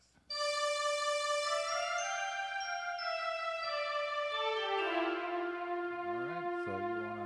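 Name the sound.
A melody played on keyboard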